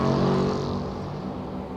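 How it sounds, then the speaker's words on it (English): GT3 race car, a Bentley, at Silverstone in a racing sim, with a loud, close engine roar that falls away as it slows under hard braking, heard alone. "You can hear the brakes being slammed down."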